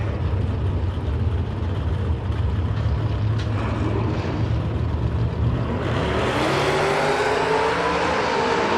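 Drag race cars launch side by side at a Door Wars Gamblers race, a PT Customs S10 against Tom Scrifignano's car: a loud continuous engine roar that swells into a rising, revving scream as they pull away, with no talk.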